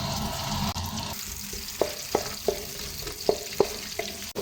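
Finely chopped onions frying in oil in a large wok, a soft sizzle with a series of sharp spatula scrapes and taps stirring at irregular intervals, close and fairly quiet.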